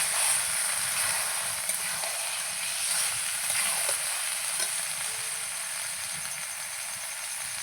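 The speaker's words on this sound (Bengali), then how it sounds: "স্বাদ মতো নুন মাংসটাকে এখন ভালো করে ঢেকে ঢেকে একটু কষিয়ে নেব" Spiced meat frying and being stirred in oil in a pan, a steady close sizzle with occasional scraping stirs, alone without talk.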